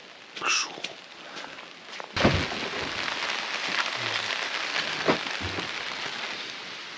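Rain patters steadily on a pop-up camp shelter in a forest during a cold camping trip, a soft dense hiss with a few sharper knocks and thuds.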